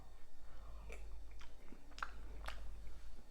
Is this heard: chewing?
yes